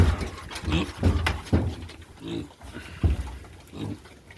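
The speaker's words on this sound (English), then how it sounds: "It's breathing, it squeals, but without really opening its jaw" A sick piglet gives a series of short, rough squeals and grunts in a rhythmic sequence, close and fairly loud, with brief pauses between the calls.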